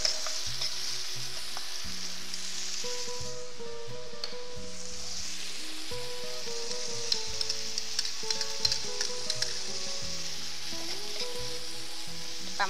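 Chili dropped into a pan of oil with onion cooked until crystallized sizzles loudly and evenly, with light stirring clicks near the end and a soft tonal backing underneath.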